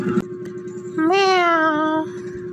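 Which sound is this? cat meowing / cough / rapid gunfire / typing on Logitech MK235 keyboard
cat meowing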